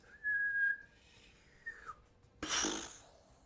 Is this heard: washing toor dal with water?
no